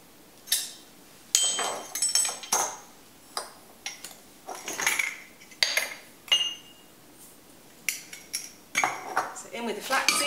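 Seeds such as flaxseed and chia are spooned into a pestle and mortar, giving a string of light clinks, taps and rattling scrapes of spoon on stone, spaced irregularly and close.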